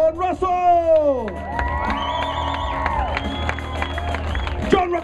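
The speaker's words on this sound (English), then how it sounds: "John Russell, a round of applause." A crowd at a slugburger eating championship cheers, whoops and claps loudly for an eating contestant, with excited shouting voices rising over steady applause throughout.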